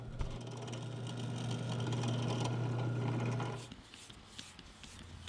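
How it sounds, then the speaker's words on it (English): Drill press drilling holes in wooden drawer pulls for an entryway table, a steady loud motor hum with a low tone that runs for about three and a half seconds, then cuts off into quieter workshop ambience with small clicks. "Then I'll finish drilling the holes at the drill press."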